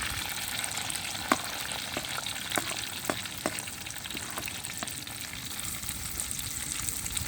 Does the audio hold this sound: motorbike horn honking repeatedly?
no